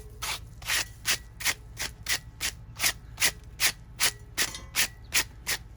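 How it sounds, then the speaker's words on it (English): Sand is scraped and scooped out of a deck post hole in steady repeated strokes, about two per second, each a gritty rasp, close and moderately loud with no talking. "let's just remove the sand."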